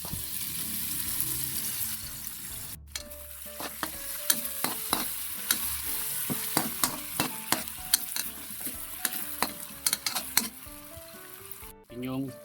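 Bangus milkfish frying with garlic in a pan, a steady sizzle under repeated scraping and clinking of a utensil stirring against the pan, close and continuous, with a voice talking in the background.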